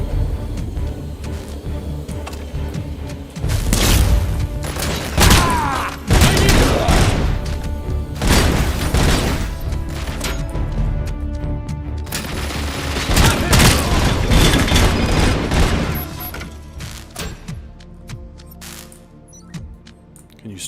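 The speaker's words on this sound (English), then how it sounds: "Can you stop shooting me, please?" Video game gunfire aimed at the player in a Robocop game, with heavy bursts of shots and booming impacts that roll on and off for a long stretch, loud and close, while a voice talks now and then.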